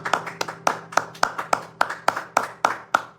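A church congregation claps together in a steady, even rhythm during a live worship service, about a dozen crisp, evenly spaced handclaps close up.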